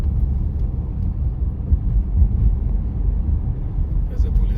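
A car rolls along a road with a steady low engine and tire rumble heard from inside, loud and continuous, with a little wind buffeting.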